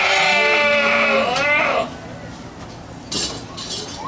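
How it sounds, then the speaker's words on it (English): A goat on a farm gives one long, loud, wavering bleat close by, then it falls quiet with a faint clink and some light background noise. "this is my favorite goat"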